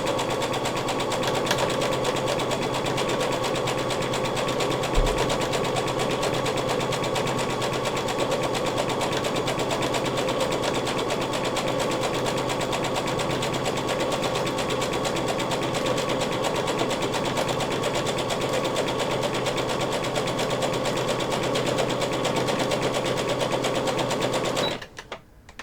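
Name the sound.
sewing machine stitching a seam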